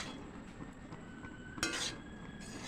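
A spoon or spatula scraping and clinking in a pan while jeera rice is stirred, light metallic knocks with one sharper clatter midway, close and fairly quiet.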